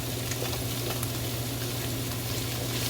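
Bok choy stir-frying in a hot pan for chop suey, a steady dense sizzle and crackle of frying that holds evenly throughout, with no talking.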